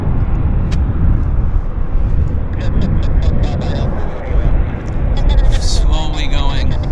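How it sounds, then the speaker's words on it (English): An Air Canada airliner on its Narita flight taxis slowly at Vancouver airport, its engines a loud, broad rumbling roar with steady low-end noise throughout, and brief faint clicks and chirps over the top. "Air Canada is slowly starting to taxi"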